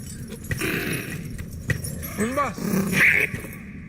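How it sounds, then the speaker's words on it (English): A dragon's dog-like, beast-like vocalization from House of the Dragon, with short gruff sounds, a rising and falling whimpering whine and a growl, mixed with clinking and other scene noise. "there's some cool sound effects here with the dragon's vocalizations. Kind of dog-like, kind of beast-like."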